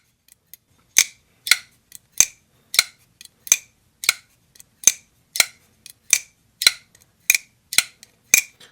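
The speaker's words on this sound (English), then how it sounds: "Got a nice little click on the close." Ferramonster Spectrum folding knife snapping shut again and again, a string of sharp, close metallic clicks spaced about half a second apart, crisp and clear with no talk.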